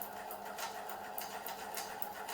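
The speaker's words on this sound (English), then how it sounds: "I'm pressing my foot lightly and I can hear the sewing machine." A sewing machine runs at a steady, even pace, its rapid stitching hum continuous and fairly quiet, with no talking.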